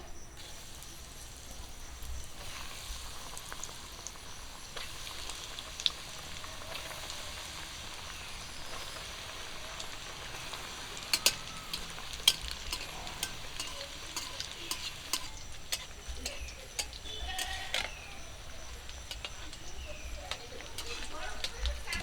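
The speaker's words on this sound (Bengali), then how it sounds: "বাকি চপগুলো আমি একই রকম করে ভেজে নেব" Egg chops (dimer chop) frying in hot oil, a steady low sizzle with scattered sharper crackles and pops throughout, fairly quiet and close, with no voice over it.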